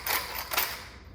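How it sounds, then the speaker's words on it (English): A hand salt grinder grinding salt for brownie batter, making two short gritty crunching twists, close and fairly loud, with no talking. "All I have is this grinder, so I'm just gonna guess"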